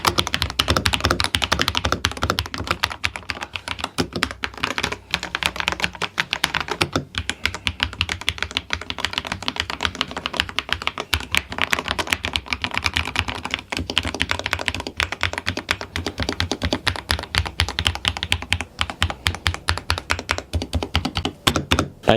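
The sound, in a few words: typing on Tecware Phantom+ mechanical keyboard, red linear switches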